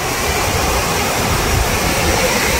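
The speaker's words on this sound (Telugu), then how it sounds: "చాలా బాగుంది, అద్భుతమైన జలపాతంగా చెప్పొచ్చు" Waterfall pouring down a long drop, a steady loud broadband roar of rushing water continuing unbroken throughout.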